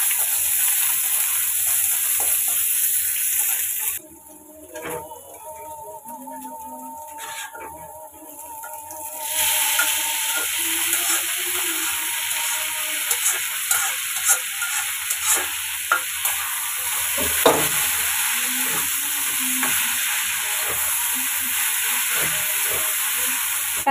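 Crushed onion and garlic frying in oil in a pan, with a steady hiss and sizzle throughout, a sharp surge of spitting around the moment of adding, then scattered clicks and scrapes of a spoon against the pan.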